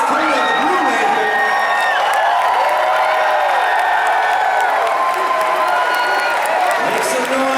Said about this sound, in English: where's my round of applause for Michael Tabor, a.k.a. Riley, the Green R